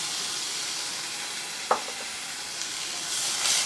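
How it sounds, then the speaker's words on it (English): Frozen peas stirred in a hot pan give a steady hiss and sizzle with a sharp tap from a utensil near the middle, and the sizzle swells slightly toward the end. "let's go ahead and throw our peas in"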